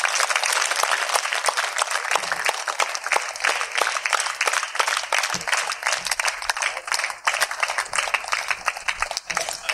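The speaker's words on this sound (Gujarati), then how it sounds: "આપણે સૌ તેમને તાળીઓથી વધાવી લઈશું." An audience at a school retirement ceremony applauds continuously, a dense, steady clapping that holds at a lively level throughout.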